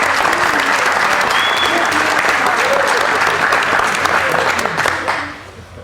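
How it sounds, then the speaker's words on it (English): A crowd at a county meeting gives the county commissioners a loud, sustained round of applause with a few voices mixed in, and the clapping thins and fades out near the end. "So let's give them a round of applause."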